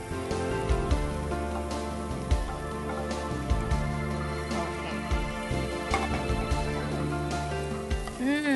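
Tempering spices sizzle as they are poured into a spinach chutney: a brief crackling hiss under a steady tonal background, with scattered clinks.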